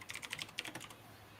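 Quick bursts of computer keyboard typing, a rapid run of crisp clicks that fades into near silence, close and fairly quiet.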